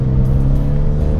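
Renault Megane R.S. 250 Cup hot hatch, tuned to 320 bhp, with its exhaust giving a loud, steady, close low rumble that holds an even drone throughout with no clear rise in revs.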